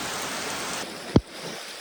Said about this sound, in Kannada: ಇವಾಗ ಮಳೆ ಮಾತ್ರ ಜೋರಾಯಿತು, ಜೋರು ಬರ್ತಾ ಉಂಟು ಮಳೆ.